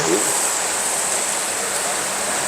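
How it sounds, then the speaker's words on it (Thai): Steady, dense rushing of flowing water, loud and continuous throughout, like a stream or churned water close by, from a paddle-wheel aerator circulating river water. "เขาทำให้น้ำไหลเวียน"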